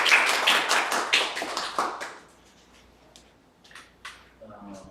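Audience applause welcoming a guest professor at an academic seminar on multimodal ultrasound imaging of blood vessel diseases, dense and steady for about two seconds, then giving way to near-silence with a few scattered taps.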